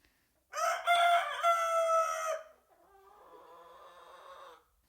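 A rooster crows loudly and close in a long, harmonic call, followed by softer, lower chicken clucking and murmuring that trails off into silence.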